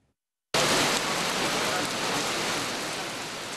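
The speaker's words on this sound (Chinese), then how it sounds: "倾盆大雨来得又急又快" A sudden heavy downpour starts abruptly after a brief silence, becoming a loud, dense, continuous roar of rain hitting surfaces that holds steady and only eases slightly toward the end.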